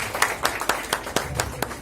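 A handful of distinct hand claps in an even rhythm at an award ceremony, close and moderately loud, with no talking over them.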